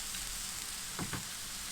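Garlic-buttered toast laid butter side down on the hot grill of an Aldi Kamado, a soft steady sizzle with a couple of brief louder crackles, close and without voices.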